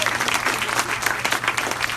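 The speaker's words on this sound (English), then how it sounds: "give an applause for who you're really here." An audience at a nutrition store event gives a round of applause, a lively, fluttering patter of many clapping hands at moderate volume, with some crowd voices mixed in.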